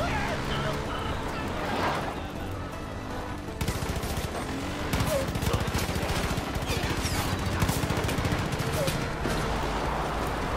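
Rapid bursts of gunfire in the shooter game Far Cry 5, sharp cracks fired in quick succession over a rumbling game background, with someone talking over the action.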